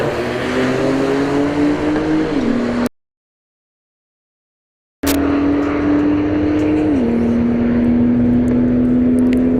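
Drag cars roll racing at Bradenton Motorsports Park roar at full throttle, a loud sustained engine drone with gear-shift drops in pitch, cut by a brief silent gap before the roar resumes.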